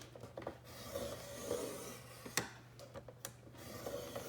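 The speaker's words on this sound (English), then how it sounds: "So now I'm going to score this on the other side at 1 inch." A scoring tool drawn along paper while making a mini album, giving soft rubbing, rasping strokes in a quiet room with a few sharper taps and clicks between them.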